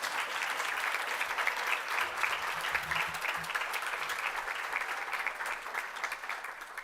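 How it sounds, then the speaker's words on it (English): Sustained applause from an audience at a college awards ceremony, steady and fairly loud throughout with no voices standing out. "please take a big round of applause for all of you"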